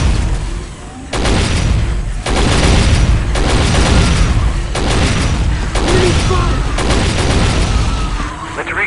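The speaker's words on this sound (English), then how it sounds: "Marco, put that cannon to good use." A cannon fires in the 2005 PC game Area 51, with heavy booms bursting out about once a second. The eight loud, close blasts each leave a dense rumbling tail.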